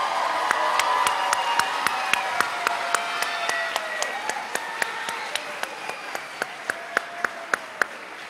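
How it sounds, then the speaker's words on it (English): At a fifth-grade moving-up ceremony in a performing arts center, the crowd gives a round of applause with cheering and whoops, while one sharp, close clap rings out in a steady beat above the broad wash of clapping. "Let's give them one more round of applause."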